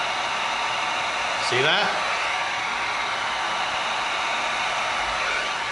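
A heat gun blowing hot air onto foam makes a steady, loud hiss throughout. A brief swell in the blast occurs partway through, and a voice speaks briefly over it.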